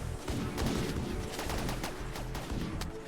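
Long-range gunfire in the RimWorld video game: a dense, continuous rattle of rapid shots that keeps up for the whole stretch, fairly loud and steady.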